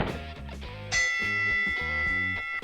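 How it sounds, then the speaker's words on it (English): Ringing bell struck for a boxing-style wrestling ring in the Second Life virtual world, sounding as a short melodic sequence of sustained bright tones with one strong strike in the middle, loud and alone. "Let's ring the bell."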